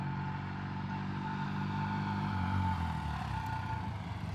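A 1978 Triumph motorcycle running with a rattle, a steady mid-pitched engine drone with a faint clattering undertone that swells slightly as it passes, no voices.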